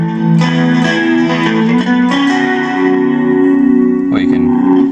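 Electric guitar through the overdrive effect of a Nux MFX10 multi-effects pedal, playing sustained chords and notes with a warm, mildly gritty tone, steady and fairly loud throughout.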